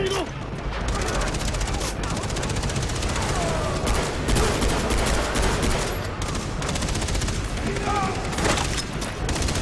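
Dense, continuous gunfire and explosive blasts from a grenade fight in Far Cry 3, loud and sustained throughout with rapid crackling shots and booming bursts layered together.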